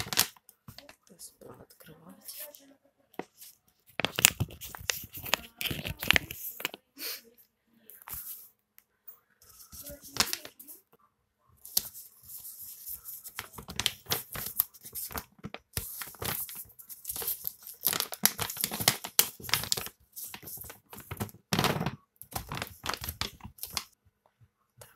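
A Purina Pro Plan Delicate lamb cat food bag being torn open, with crinkling plastic and tearing in irregular bursts across the stretch, close and fairly loud, while a person talks between the rustles.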